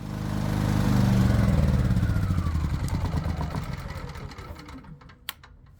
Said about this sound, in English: We're running the gas generator on propane.